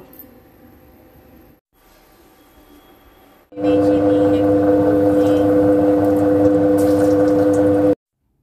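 A pressure cooker with mango inside: a quieter hiss comes first, then a loud sustained whistle bursts in and holds steady for about four seconds before cutting off abruptly.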